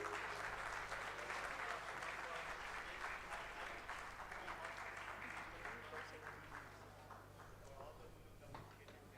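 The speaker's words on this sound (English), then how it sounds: "Huge round of applause, please." Steady, sustained applause from a conference audience of company secretaries fills the whole span, dense and even, slowly tapering near the end.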